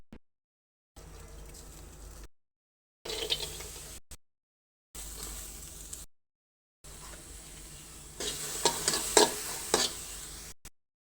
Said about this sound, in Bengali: এখন কাঠখোলায় তেল ছাড়া ভেজে নেবো কিছুক্ষণ